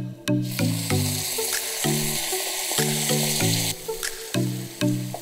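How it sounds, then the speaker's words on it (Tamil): Cranberry sauce hits a hot pan and sizzles with a continuous bright hiss, heard under steady, rhythmic background music. "இப்போ நல்லா இந்த போனை எல்லாத்தையும் க்ரஷ் பண்ணி இதில் இருக்கக்கூடிய சாஸை நம்ம இந்த பேனில் ஊற்ற போகிறோம்"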